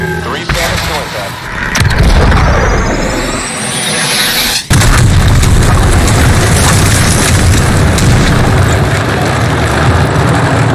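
Called-in artillery strikes in the Call of Duty: Modern Warfare 2019 campaign, heavy booming blasts with aircraft roar and a rising whine, then a sharp impact giving way to dense, loud, sustained rumble and debris noise.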